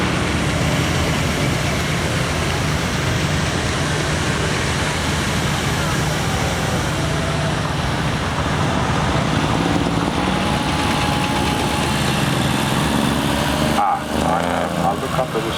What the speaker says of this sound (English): Clayton and Shuttleworth 7 horsepower road loco, Lady G. Built 1915